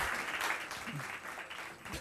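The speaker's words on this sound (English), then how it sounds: "a massive, massive round of applause" Audience applause at a business strategy workshop in Bochabelo, Free State: a dense wash of clapping from a crowd that holds steady and then thins slightly toward the end, with no speech over it.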